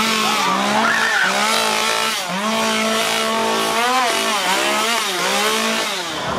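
A chainsaw revs loudly and continuously at a Halloween theme park horror attraction, its high whining engine note rising and falling in repeated bursts up close.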